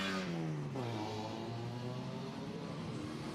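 A four-cylinder MGB sports car's engine revs hard at a historic grassroots sprint race in Leyburn, a loud rising-then-falling drone with clear harmonic whine, heard close and alone without talk.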